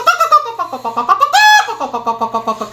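A man imitates a hen clucking as it leaves its coop, with a quick run of short, voiced clucks and one drawn-out squawk in the middle, loud and close.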